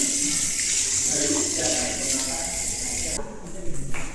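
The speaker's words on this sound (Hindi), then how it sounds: "अभी हम भी हाथ धो लेते हैं थोड़ा सा" Tap water runs steadily into a sink at a railway training centre dining hall as hands are washed, a continuous close hiss with splashy changes near the end.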